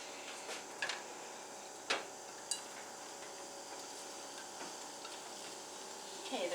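Link sausages fry in a pan with a steady, close sizzle, broken now and then by a light clink or scrape of a utensil against the pan.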